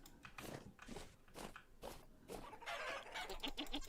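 Chickens cluck in a repeated choppy pattern in the Vintage Story video game, several bursts close and fairly faint, with a busier flurry of clucks near the end.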